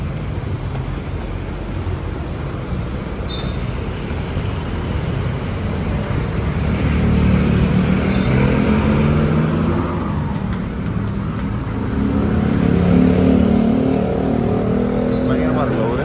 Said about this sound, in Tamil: இதுதான் டிராஃபிக்